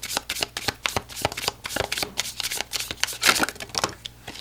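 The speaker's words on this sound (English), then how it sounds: "so we'll continue to shuffle." Tarot cards are shuffled by hand up close, a quick run of crisp riffling and slapping bursts in an irregular, continuous rhythm, with no talking.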